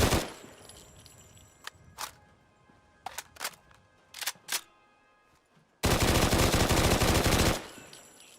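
Fallout 4 gunfire: several separate sharp shots crack in an uneven, stuttering rhythm, then a dense burst of rapid automatic fire rings out loud for almost two seconds before cutting off.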